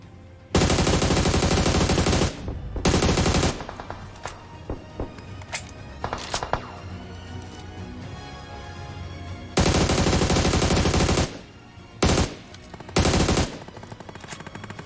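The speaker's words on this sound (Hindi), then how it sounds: "जब मैं यहां आया तो मुझे इधर की तरफ से फायरिंग के साउंड आए" Gunfire from another squad in the battle-royale game BGMI: long loud bursts of rapid automatic fire alternate with scattered single shots and short volleys, close and harsh, with no talking.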